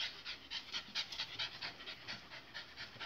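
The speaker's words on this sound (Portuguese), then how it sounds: "Eu tô fazendo a primeira aula de cachorro. A primeira aula da Ravena na guia" A dog pants rapidly and rhythmically on its first lesson on a leash, quick soft breaths close by with no talking.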